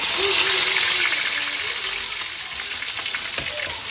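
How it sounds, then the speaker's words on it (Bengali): Onion paste sizzles steadily in a pot over a gas stove, a continuous close frying hiss with faint crackles that eases slightly in loudness, no talk. "চুলায় আমি পেঁয়াজ বাটা দিয়ে দিতেছি"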